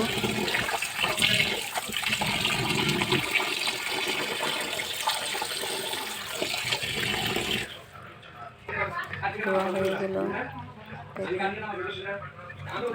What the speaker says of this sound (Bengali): এখন আমি মাংসটা ভালো করে ধুয়ে নিব